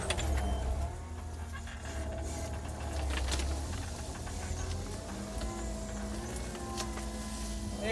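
A skid steer fitted with a Danuser Intimidator grapple rumbles steadily while tearing tree roots and brush from the ground, its engine drone constant and close with scattered creaks and knocks throughout.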